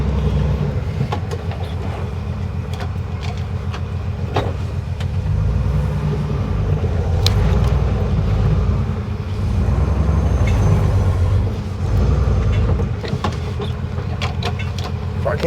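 A truck engine idles after cranking, a close, steady low rumble with slight swells and a few clanks, running on its own without talk.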